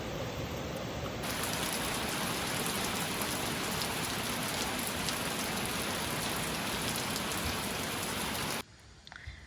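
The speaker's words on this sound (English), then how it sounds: "It had started raining quite heavily" Heavy rain pours steadily during a summer storm in the Kootenays, a dense roaring hiss of drops on surfaces that stops abruptly near the end.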